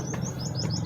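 A small pidda bird chirps in quick high repeated tweets over a low background rumble, close and clear for under a second.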